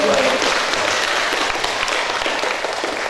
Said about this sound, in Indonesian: Tepuk tangan untuk Kamilian.